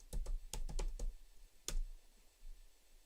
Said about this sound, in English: Let me just bring up Chrome and type how do I plot